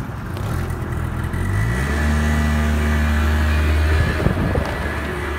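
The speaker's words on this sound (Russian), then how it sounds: "вот едешь, и вот мотор работает так глухо довольно-таки" A Honda Lead 50 AF48 scooter engine runs steadily while being ridden, a dull, muffled drone that climbs in pitch after about two seconds and then holds a steady note, close and continuous with no talking.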